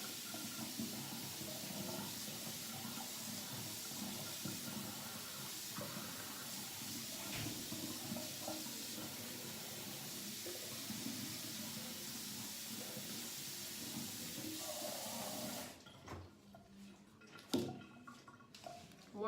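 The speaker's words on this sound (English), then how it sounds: "So I'm going to go fill our warm water now." A tap runs warm water into a container for animal nursing care, a steady soft hiss lasting about fifteen seconds before it stops, followed by a few quiet knocks.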